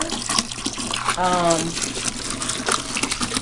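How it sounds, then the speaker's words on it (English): Hot water gushing into a homemade liquid laundry detergent mixture, a steady close pour lasting a few seconds while a person talks over it. "this water that I'm adding to it is hot, really hot"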